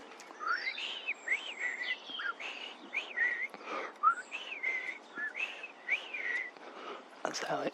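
A person whistles an imitation of a blackbird's song in an autumn garden, producing a run of varied fluting, warbling phrases with short pauses between them, close and clear, followed by a brief rustle at the end.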